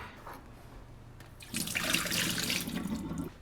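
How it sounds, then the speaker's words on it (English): Syrup from two large cans of sweet potatoes pours off in a steady liquid stream, quiet at first and then a fuller, louder splashing gush that runs on to the end. "I'm going to drain all of the juice off"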